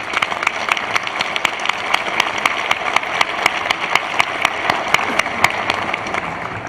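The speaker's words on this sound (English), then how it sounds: "Let's just take a second and give everybody a round of applause." A crowd applauds steadily at the Emory Law School commencement in 2013, dense overlapping claps filling the hall at even loudness throughout, with no one speaking.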